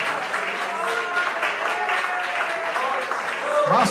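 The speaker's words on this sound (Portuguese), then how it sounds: "As palmas para Jesus." A church congregation claps for Jesus after a prayer, a steady wash of hand claps with voices and noise underneath throughout.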